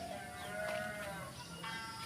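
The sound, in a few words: Garut sheep bleating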